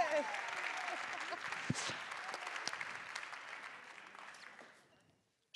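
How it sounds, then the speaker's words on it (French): Award ceremony audience at the Tech For Future 2024 prize-giving applauding the winners, a dense sustained wash of clapping that fades out toward the end. "on peut les applaudir encore plus fort, s'il vous plaît"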